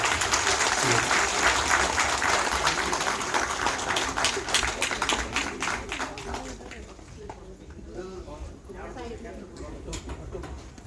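Audience at a Delhi election campaign event applauds to welcome Union Minister Suresh Gopi, dense clapping that gradually thins and fades, with voices heard among the crowd.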